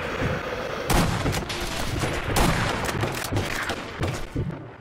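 Gunfire in the Sniper Elite V2 video game, a series of sharp, loud reports and heavy thuds scattered across a few seconds over a busy, noisy battle background.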